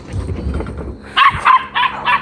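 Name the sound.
dog barking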